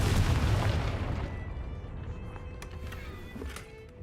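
A Confringo explosion spell in the Hogwarts Legacy video game, one heavy boom that rings out and decays over a few seconds, followed by faint crackling debris.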